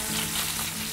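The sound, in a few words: salmon frying skin-side in a pan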